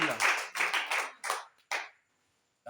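A church congregation claps rhythmically in praise, several loud bursts of hand clapping that thin out and stop, leaving silence.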